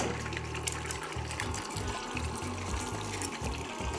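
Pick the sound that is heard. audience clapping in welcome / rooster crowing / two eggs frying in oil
two eggs frying in oil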